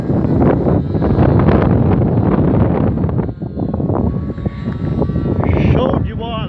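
An F450 quadcopter drone flies outdoors at a model-aircraft gathering, its loud buzzing rotors mixed with gusty wind buffeting the microphone while people talk nearby.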